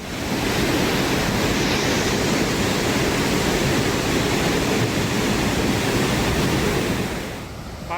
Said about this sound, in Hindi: पानी काफी बहाव काफी तेज है